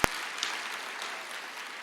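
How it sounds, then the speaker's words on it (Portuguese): A church audience gives a brief round of applause, a soft wash of clapping that follows a single sharp clap at the start and holds steady at a moderate distance. "Pode aplaudir."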